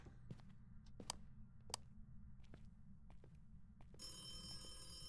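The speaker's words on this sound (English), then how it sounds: "Oh, it's ringing the phone." A telephone rings in the Phasmophobia ghost-hunting game, with several sharp separate rings standing out over a low rumbling background, followed by a steadier tone toward the end.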